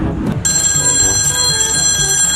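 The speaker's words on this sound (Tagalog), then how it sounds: "may tumatawag sa telepono" An old-style telephone bell rings loud and close, a sustained bright metallic ring starting after a short thud and continuing unbroken to the end.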